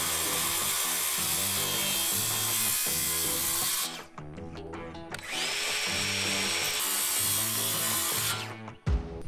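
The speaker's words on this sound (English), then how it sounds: "I'm gonna use a circle saw so I get a straight cut on the top line and the bottom line" A circular saw cuts across the top of a wooden telephone pole during a budget pole barn build, with a loud sustained buzzing whine that drops out briefly around four seconds and again near the end before restarting.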